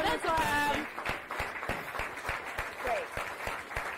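An audience at a company gathering claps in a scattered, uneven patter, with distinct individual claps beneath a voice talking over them.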